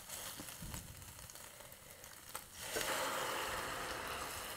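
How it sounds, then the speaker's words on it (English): Low-sodium chicken broth hits a hot skillet with a sudden, steady sizzle that swells partway through and keeps hissing loudly to the end. "It's got a great sizzle."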